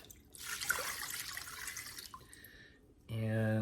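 Water runs into a cooking pot for a vegetable coconut curry, a steady broadband pour lasting a few seconds before it tapers off, followed by a brief voice at the end.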